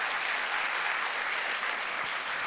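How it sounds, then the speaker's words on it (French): An audience at a panel discussion on Franco-African partnerships applauds a panelist, dense continuous clapping filling the room at a steady level throughout. "applaudissez, s'il vous plaît, ce panéliste"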